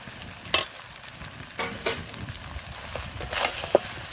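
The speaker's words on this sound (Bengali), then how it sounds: "দিয়ে এটাকে আমি ভালো করে তাকে কষাবো।" Goat head sautéing in a pan with a ground paste of dried red chilli, coriander and cumin, a soft steady sizzle broken by a few sharp scraping stirs, fairly close and on its own.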